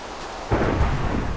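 Thunder from a lightning strike in Minecraft: a sudden loud, broad rumble starts about a third of the way in and rolls on steadily to the end, heard alone with no talk.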